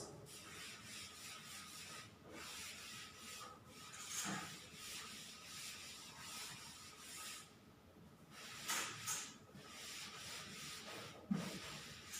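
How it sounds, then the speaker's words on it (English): Rubbing writing off a board in a classroom, a faint, continuous scrubbing hiss with a few slightly stronger strokes and no talk. "Okay, I'll rub off this."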